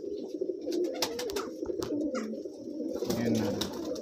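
Pure Malwai Punjabi pigeons cooing close by in a steady run of soft, throaty coos, with faint rustling and a murmur of voices in the background.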